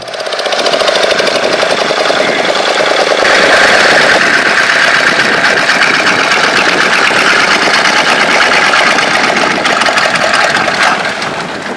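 A fishing boat's engine runs loud and close as the boat comes in to a busy fish market, with a steady mid-pitched throb and chugging that continues throughout, with no talk.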